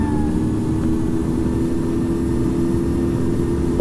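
Bombardier CRJ-200 jet engines spooled to full takeoff power in a flight simulator, a steady loud roar with a low rumble and a faint whine, continuous and unbroken.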